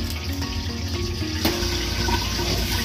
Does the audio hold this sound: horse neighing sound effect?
no